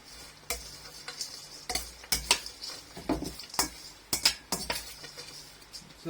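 A herbal mixture with kaffir lime peel is stirred in a bowl for a scented herbal sachet. Scraping, stirring strokes come with scattered sharp clinks against the bowl, fairly close and irregular, with no talking.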